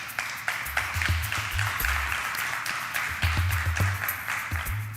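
Scattered clapping from a small studio audience at a cooking competition show, fairly faint and steady with a few sharper claps, under low background murmur.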